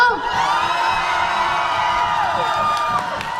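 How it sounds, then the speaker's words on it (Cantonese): A live concert audience cheering for a singer, a dense crowd roar of whoops and high shouts that stays loud and continuous throughout. "話你哋歡呼聲再大聲啲好冇"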